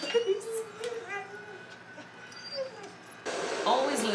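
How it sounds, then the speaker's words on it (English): A dog in The Last of Us whimpering and yelping in distress, with high, wavering cries rising and falling close by, mixed with other show sounds and a burst of noise near the end. "The dog is freaking out"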